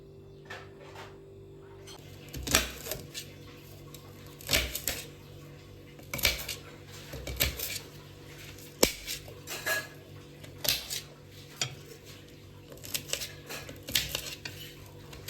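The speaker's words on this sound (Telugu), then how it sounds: "ఇప్పుడు బోడకాకరకాయలు కట్ చేసుకుందాం" Spiny gourds being chopped into small pieces with a knife, a series of close, sharp cutting knocks in irregular bursts about a second apart over a quiet room background.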